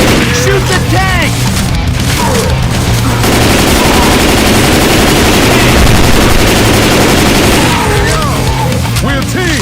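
Heavy, continuous automatic gunfire blasts at the Tank in Left 4 Dead 2, loud and close, with dense bursts over game sounds and voices shouting.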